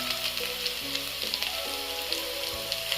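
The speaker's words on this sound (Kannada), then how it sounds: "ಚೆನ್ನಾಗಿ ಫ್ರೈ ಮಾಡಿಕೊಂಡು ಫ್ರೈ ಆದಮೇಲೆ ಮೆಣಸಿನ್ಕಾಯಿ" Vegetables frying in oil for vegetable fried rice give a constant, fairly loud crackling sizzle like light rain on a surface, with a sustained tonal hum underneath and no talking.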